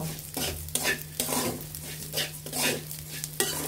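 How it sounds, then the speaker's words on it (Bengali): Rice is stir-fried in a pan with turmeric, chili and coriander powder for a Bengali rohu fish head muri ghonto, giving repeated scraping stirs over a steady close sizzle, with a low hum underneath and no talking. "আমরা এখানে ভালোভাবে চালগুলো আবার কষিয়ে নেব, হলুদ, লঙ্কা এবং ধনিয়া গুঁড়ো সহ"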